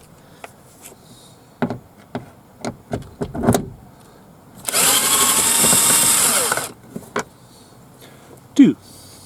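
A cordless power drill with a screwdriver bit backs screws out of a Scion xA door panel during a window motor replacement. Scattered close clicks lead into one steady, loud whirring burst of about two seconds, with no talk.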